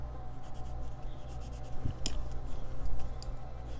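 A colored pencil scribbles on a sheet of paper, a close, dry scratching that repeats in quick rhythmic strokes with small taps and rustles, heard alone without talk.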